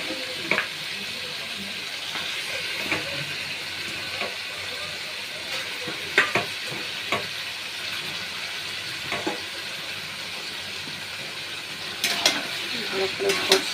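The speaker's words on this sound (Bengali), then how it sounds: "এখন একে একে মাংস, ম্যারিনেট করা মাংসগুলো দিয়ে দিচ্ছি।" Marinated meat frying with cooked-down spices in a pan, a steady hissing sizzle with occasional clicks and scrapes of a utensil, moderately loud and close with no speech.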